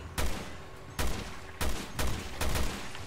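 Gunshots ring out in Resident Evil Revelations 2, five sharp, loud blasts spaced roughly half a second apart, each with a short echoing tail.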